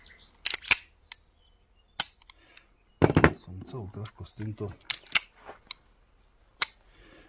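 The trigger of an STI 1911 pistol is dry-fired several times. The sharp, close clicks are spaced irregularly between stretches of Slovak conversation.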